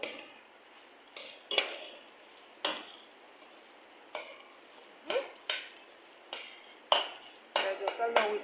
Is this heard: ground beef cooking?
yes